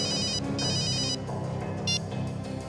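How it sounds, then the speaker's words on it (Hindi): A telephone rings with bright electronic trills in repeated bursts, loud and close over a steady low background hum. "फ्रेडी का फोन था"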